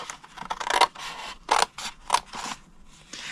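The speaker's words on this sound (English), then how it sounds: "We're going to cut it to the second score line." Scissors snip through cardstock along a score line, several short crisp cuts in bursts with brief pauses, close and fairly quiet, no talking.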